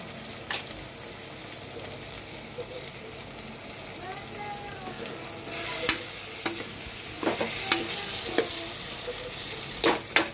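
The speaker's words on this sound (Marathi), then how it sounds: "बिर्याणी मसाला, लाल तिखट थोडंसं, हे सगळं टाकून याला व्यवस्थित परतून घेऊया" Rice mixture with biryani masala and red chilli powder being sautéed in a pan, giving a steady low sizzle broken by brief scraping stirs, close by with no talk.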